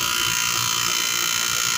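A vacuum pump runs with a steady, loud, high-pitched motor whine and hum that stays constant throughout, with no talking.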